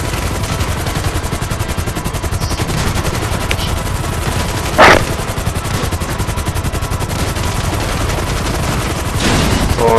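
Gunfire in the Grand Theft Auto V video game rattles continuously as a dense, steady barrage, with one sharper, louder shot standing out midway and the shooting swelling again near the end.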